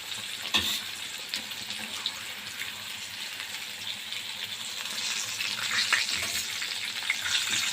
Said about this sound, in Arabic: حطيناه في الطاسه اهو، يحمر نقلب ونطلع على طول